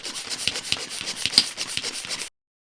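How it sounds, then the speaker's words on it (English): A hand pump screwed onto the valve of a vacuum storage bag for clothes pulls the air out with quick, even strokes. About ten close, rasping pumps run in a steady rhythm for two seconds, then stop abruptly. "Just pump the air right out of it."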